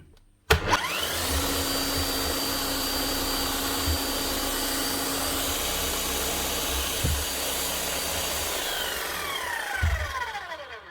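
A Bosch demolition hammer motor runs steadily with a loud, even whine and whir, spinning without hammering blows, starting abruptly and continuing unchanged for about ten seconds with a few faint knocks.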